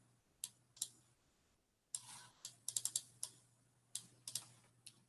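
Computer mouse clicking in sharp, light, close clicks, a couple alone then a quick cluster of several, over a faint steady hum, no talking.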